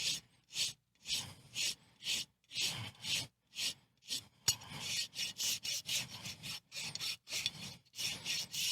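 Repeated rasping strokes of a hoof rasp filing down a horse's toe during a conventional hoof balance trim, a steady rhythmic series of about twenty close, fairly quiet scrapes with short pauses between them, no talking.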